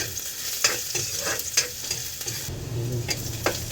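Garlic and ginger sizzle in a hot pan while being stirred, a steady frying hiss broken by sharp scraping clicks of a utensil against the pan, close and without talk.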